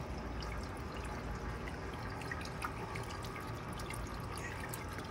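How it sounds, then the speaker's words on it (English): Water running through a homemade hydroponic vertical grow tower, a constant trickling and dripping wash with scattered splashy drips, steady and close, no talking. "And we definitely got more water running through there."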